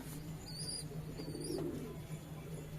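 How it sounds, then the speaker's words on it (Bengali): Pet pigeons calling in a room, with high chirping calls repeated a few times over a steady low hum; faint and somewhat distant, with no talking. "এরা এত চেল্লাচিল্লি করছে পাখিগুলো"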